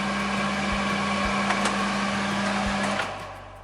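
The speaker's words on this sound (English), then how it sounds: "Extractor." Kitchen extractor fan running above a pan while pancakes cook, a steady broadband whoosh with a low constant hum, loud and unbroken for several seconds before easing slightly at the end.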